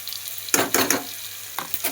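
Green chili paste frying with cumin and Kashmiri chili powder in a pan for a bottle gourd dish, stirred in two scraping, sizzling bursts with quieter gaps between, close and moderately loud.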